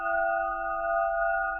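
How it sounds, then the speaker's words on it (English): A spun 8-inch quartz crystal pyramid gives a sustained, pure ringing tone that gently wavers in loudness, heard close and alone. "spin it like this a bit there, that gives a bit of a oscillating sound."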